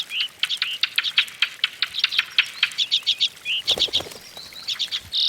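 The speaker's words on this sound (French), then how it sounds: "le merle à plastron" Ring ouzel song in a natural alpine setting in spring: a fast series of clear, repeated piping notes, fairly close and bright, with no voices.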